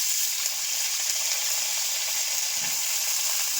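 Potatoes fry in hot oil in a pan, giving a steady, close sizzle with a soft bubbling hiss and one brief stir partway through.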